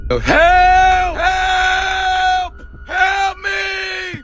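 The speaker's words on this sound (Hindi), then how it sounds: "तभी हॉस्पिटल के पीछे से किसी की चिल्लाने की आवाज आती है।" Cartoon-style screaming coming from behind a horror hospital, a loud, high, strained wail that breaks into several sustained bursts with short gaps between them.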